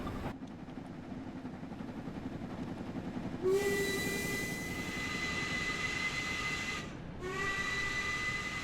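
A steam locomotive whistle in the game Train Sim World 2 sounds two long, steady blasts, the second after a short gap, over a constant low rumble of the engine and rails.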